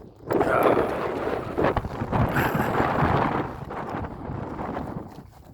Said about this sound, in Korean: 찬바람이 너무 불어가지고 지금 앞을 분간할 수 없을 정로 많은 바람이 부는데